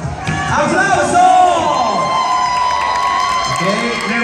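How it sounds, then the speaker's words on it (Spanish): A crowd at a Halloween costume contest in a bar cheers loudly, with whoops, shouts and clapping blending into a sustained, close roar. "¡Aplauso!"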